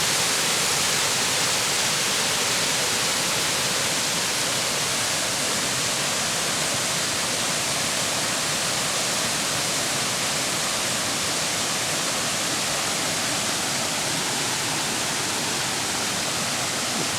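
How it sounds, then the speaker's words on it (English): Mink Creek Falls cascading over rocks and splitting around a boulder, a steady, dense broadband rush of falling water that stays constant throughout, close by and with no voices. "I like the way this cascade comes down and then splits around this rock."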